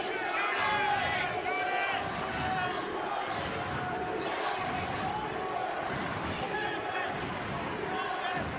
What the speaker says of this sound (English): Big crowd today at Knott Arena.